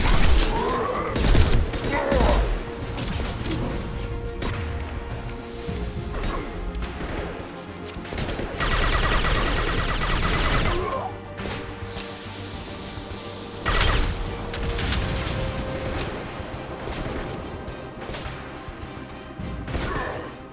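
Weapon fire and loud combat effects in Mass Effect 2, with bursts of gunfire, crashes and whooshes recurring throughout a busy battle mix, and a voice speaking at times.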